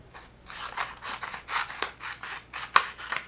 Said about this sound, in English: And now I'm going to cut this out and make this top a separate piece